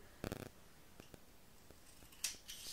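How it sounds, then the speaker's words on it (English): A few sharp close snips of scissors cutting a small piece off a drinking straw, separated by short quiet gaps, with a brief rustle at the end and no speech. "you can get yourself a piece of straw, just cut a little piece off like that"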